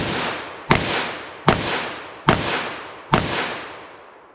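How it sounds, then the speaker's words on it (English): Four sharp .44 Magnum revolver shots fire in rapid, evenly spaced succession, each a loud crack with a ringing outdoor tail and no talk. "see how quick I can fire 6 or 5 rounds of 44"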